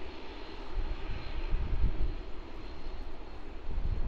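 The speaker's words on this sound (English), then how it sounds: "China Southern Boeing 787-9." A China Southern Boeing 787-9 passes at Sydney Airport, its engines a steady, broad roar that swells slightly toward the middle and holds at moderate distance throughout.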